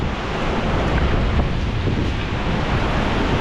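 Strong typhoon winds roar over high floodwater surging against a riverside home during Typhoon Uwan, with steady loud broadband wave wash and wind buffeting the microphone throughout, and no one speaking.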